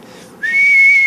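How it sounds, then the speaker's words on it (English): A person whistles a single clear, sustained high note that starts abruptly and holds steady, loud and close, with no talking over it. "It took me years to whistle."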